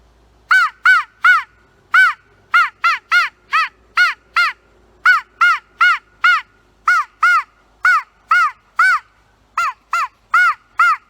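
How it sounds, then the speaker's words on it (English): A crow caws over and over, roughly twenty clear, evenly spaced harsh calls in steady bursts, close and loud against a quiet outdoor background with no talking. "I hear a crow over that way."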